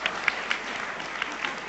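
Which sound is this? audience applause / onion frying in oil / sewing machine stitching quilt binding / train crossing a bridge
audience applause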